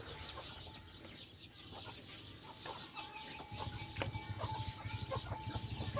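A chicken clucks in short repeated bursts at a rural family home, fairly close over faint background noise, with a steadier cackling run toward the end.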